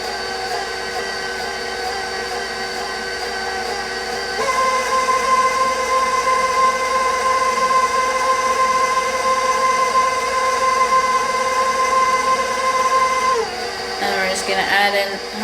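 An electric stand mixer runs on low speed through banana muffin batter, a steady whirring drone with a brief pitch shift near the end.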